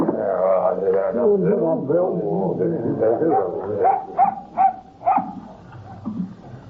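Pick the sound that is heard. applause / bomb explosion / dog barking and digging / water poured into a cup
dog barking and digging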